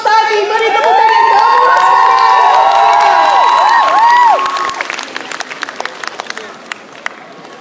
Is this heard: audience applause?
yes